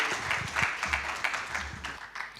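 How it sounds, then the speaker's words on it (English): An audience at a social performance forum applauds steadily in a short burst of dense, fairly close clapping that tapers slightly at the end. "Let's give him a big round of applause, ladies and gentlemen."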